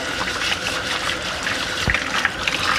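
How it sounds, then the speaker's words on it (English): Warm water from a sink tap runs steadily over potatoes being rinsed and scrubbed clean, a continuous close splashing and trickling with no speech. "all I'm gonna do is use warm water to rinse them off"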